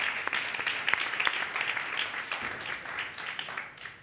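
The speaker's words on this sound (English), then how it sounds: "let's just give them a round of applause" Conference audience applauding product design panelists at an event in New York, a broad, even round of many hands sustained throughout, moderately distant with a hall-like spread.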